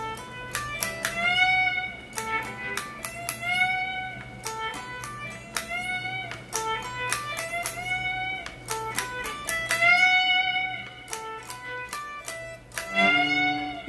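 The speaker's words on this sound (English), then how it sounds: "you're going to have to play with the volume swells" Electric guitar phrase in a lick, notes fading in with volume swells and rising through full string bends, played steadily for about fourteen seconds over a low sustained backing tone, no talking.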